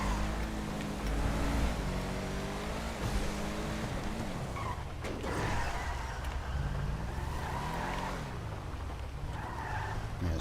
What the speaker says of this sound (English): Move your Honda Civic. Your Honda Civic wants to race.